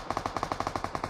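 Rapid automatic gunfire in PUBG Mobile, about a dozen evenly spaced shots in a fast burst, loud and close.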